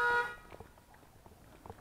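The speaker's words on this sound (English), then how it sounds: "Got some idiot honking the horn." A car horn gives one short honk right at the start, fairly loud but some distance off, and then fades into quiet outdoor background noise.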